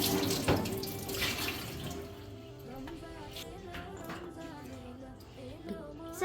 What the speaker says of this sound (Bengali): এখন হচ্ছে আমি খাজুরগুলো ধুয়ে রাখবো